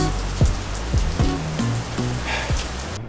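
Steady rain falls outdoors as a continuous close hiss of drops on surfaces, with a few low thumps and knocks mixed into the wash.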